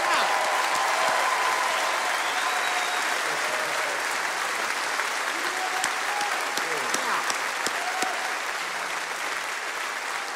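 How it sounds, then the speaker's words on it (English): A Grand Ole Opry audience applauds steadily for about ten seconds, a broad, even roar of clapping with occasional whoops and indistinct voices mixed in. "Ladies and gentlemen, please give them a round of applause."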